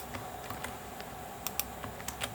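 Typing on a computer keyboard while writing code, heard as faint, scattered key clicks at an irregular pace over a quiet room hiss, with no talk.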